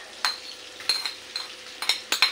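Garlic sizzles faintly in melted butter in a pan, broken by sharp clinks of a metal utensil against the pan at irregular intervals. No one talks.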